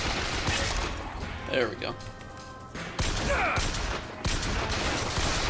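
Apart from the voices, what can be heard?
gunfire in the video game BioShock Infinite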